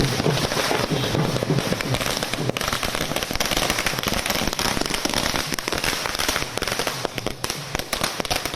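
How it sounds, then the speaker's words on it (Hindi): Fireworks and firecrackers crackle in a dense, continuous barrage at a Congress party headquarters celebration, loud and sustained with sharp bursts throughout. "कांग्रेस मुख्यालय की जहां पर जश्न हो रहा, आतिशबाजी"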